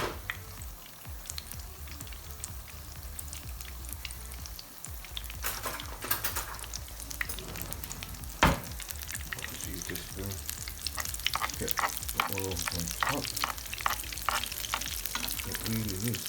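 Tuna falafel fry in hot oil in a pan, a steady loud sizzle with spoon scrapes and clinks against the pan, and a sharp knock near the middle.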